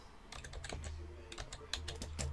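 Rapid, uneven clatter of keys on a computer keyboard, close and fairly loud, with bursts of quick keystrokes and short pauses and no voices.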